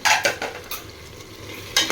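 Mutton fries in a pressure cooker as it is stirred, giving a few loud scraping strokes of a spoon against the metal over a low, steady sizzle.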